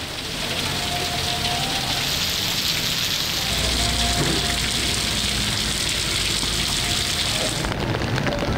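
Heavy monsoon rain pours down across flooded Karachi neighbourhoods, a dense, loud, unbroken hiss of water striking surfaces that holds steady for the whole stretch, with faint distant tonal sounds beneath.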